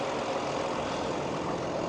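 A New Holland T7 225 tractor engine runs at a steady low rumble, a constant broad drone with no change in pitch over the brief stretch and no voices.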